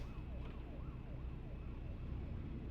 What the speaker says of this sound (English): There's somebody out there with the fire alarm sirens or something like that